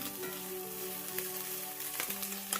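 Sausage and hash browns sizzling in a cast iron skillet, a steady crackling fry with a low hum beneath and occasional scraping stirs, close and fairly quiet.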